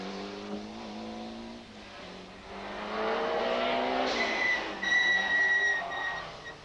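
A Ford Sierra rally car launching onto a rally stage, its engine rising through revs in climbing whining tones as it pulls away, then a higher whistling note, heard at moderate distance with no talk.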